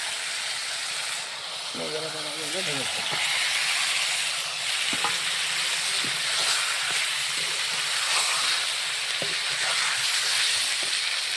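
Spice paste sizzling and frying in oil for a Bengali fish curry, a steady loud hiss with occasional stirring scrapes and a brief voice speaking near the start.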